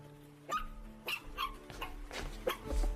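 A rain-soaked puppy whimpers and yips in short high cries, several in quick succession, close and fairly loud with no talk over them.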